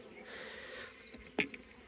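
A steady insect buzz, like bees droning close by, with a brief sharp knock partway through.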